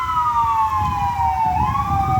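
A police siren wails in a long falling tone that swings back upward, steady and fairly loud over low road rumble.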